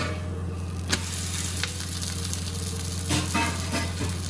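Adai dosa batter cooking on a hot pan, a steady close sizzle running throughout with a few faint clicks and scrapes.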